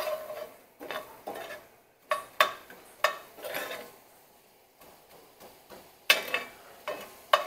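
Garlic being stirred into sausage dressing in a pan, a spoon scraping and clinking against the cookware in a series of short, distinct bursts with quiet gaps between, no one talking.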